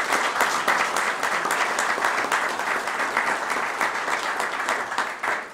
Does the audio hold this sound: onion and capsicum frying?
no